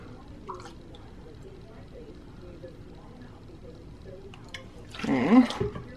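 A cup of milk pours into a flour mixture in a kitchen: a short, wet splashing gush near the end, following a stretch of quiet room noise with a few faint drips.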